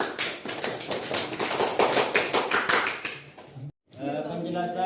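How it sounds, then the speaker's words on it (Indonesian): A classroom of students claps for a presenting group, rapid overlapping hand claps that build and fade over a few seconds, then stop abruptly before voices pick up again. "Tepuk tangan untuk kelompok 4."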